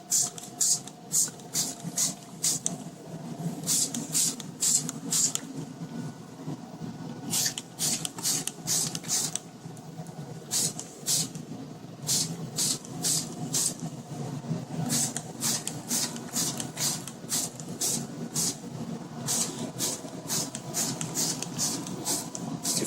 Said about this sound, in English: I'll go ahead and show you what my finish hairspray application would look like